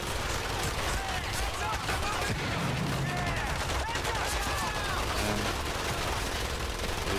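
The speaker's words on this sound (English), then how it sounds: "Gunfire! Lots of gunfire!" Heavy gunfire in a World War II Pacific combat video game, a dense, continuous barrage of shots and explosions that fills the whole stretch, with a voice heard over it.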